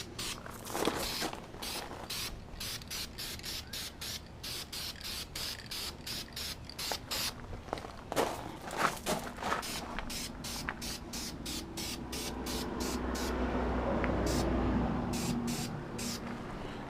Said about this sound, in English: all you're trying to do is just get a simple base coat. You know, get the whole thing, get it primered